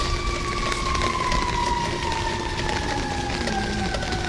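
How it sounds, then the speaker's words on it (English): Emergency vehicle sirens wail steadily in the distance during a storm, a gliding tone over constant rain and wind noise. No one speaks. "Yeah, you can definitely hear the sirens."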